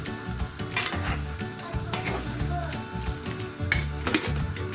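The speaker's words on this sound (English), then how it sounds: "pour it in a bit at a time so that this allows me to be able to stir and fully cover the pasta with the sauce" Pasta being stirred into sauce in a pan for a chicken pasta bake, with soft sizzling, wet sloshing and occasional utensil clinks against the pan, close up and steady.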